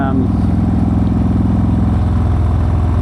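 A motorcycle engine running steadily on a summer ride around town, a loud close low rumble throughout with someone briefly talking over it.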